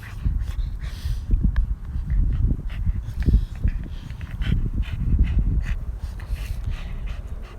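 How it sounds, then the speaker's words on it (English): An adult Boston Terrier nearly eight years old pants hard and rhythmically at close range, with quick repeated breaths and a few faint whimpers, and no voices over it. "He's a handsome dog, isn't he?"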